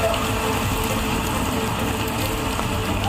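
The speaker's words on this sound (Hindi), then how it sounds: "देश की आर्थिक राजधानी मुंबई में रुक रुक कर भारी बारिश हो रही है" Heavy rain pours down in Mumbai, a dense continuous hiss of falling water, loud and steady from start to finish.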